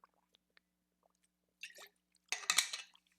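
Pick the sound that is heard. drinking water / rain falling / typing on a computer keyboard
drinking water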